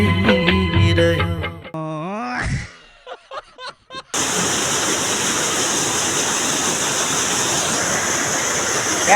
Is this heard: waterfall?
yes